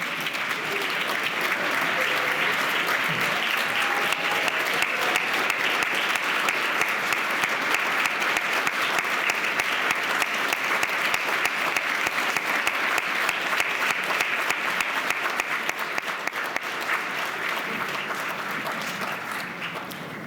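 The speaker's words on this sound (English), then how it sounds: "we can give you a round of applause" An audience at an awards ceremony at Carnegie Mellon gives a long, sustained round of applause for students' families, dense and even for about twenty seconds before tapering slightly at the end.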